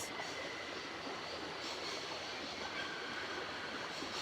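A train running in the Syberia game, a steady dense rumble and rattle of wheels on rails, continuous and fairly close, with no talk over it.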